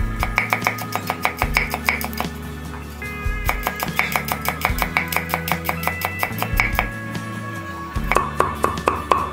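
Rapid, steady knife chopping on a board, dozens of quick strikes in a regular rhythm, close and clear, with faint background voices.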